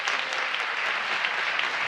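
Loud, dense crowd clapping in response to a show-of-hands question at a political pints-and-politics gathering in Cedar Rapids, an even, continuous roar of many hands.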